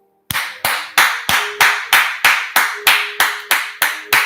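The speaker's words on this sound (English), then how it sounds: "The reason why I'm clapping" A single person claps their hands in a slow, even rhythm, about a dozen sharp, loud claps spaced evenly one after another with nothing else around them.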